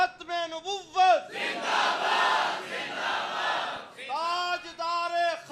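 A crowd chanting religious slogans, a loud massed roar of voices in unison, set between a single man's energetic calls that lead each round of the chant.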